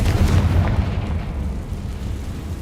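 A heavy explosion from the Confringo fire spell in a fantasy video game booms loud and close, its deep rumble peaking early and then rolling on for a couple of seconds, with no voices.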